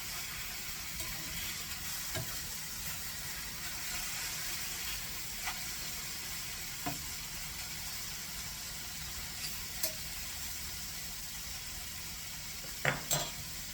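Mushrooms cook down in a pan for beef stroganoff, their liquid gone, with a steady, soft frying sizzle and hiss throughout and a few small clicks near the end.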